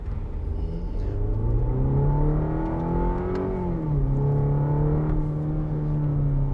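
A 2021 Cadillac CT4 sedan accelerates on wet roads under manual shift mode, its engine note climbing steadily, dipping at a gear change, then pulling again in a loud, close, continuous drone with no talk.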